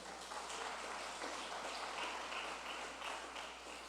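Church congregation applauding, a faint, steady hiss of many hands clapping that carries on without a break, heard from a distance.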